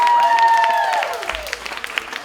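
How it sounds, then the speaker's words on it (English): An audience at a beauty pageant training session applauds Mrs. India, a loud burst of clapping that thins to scattered claps, with a tonal sound sweeping over the start. "Mrs. India, a round of applause."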